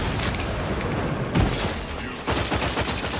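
Bursts of weapon fire in The Outer Worlds video game, a rapid fusillade of shots with a sharp boom partway through, fairly loud against a busy combat background.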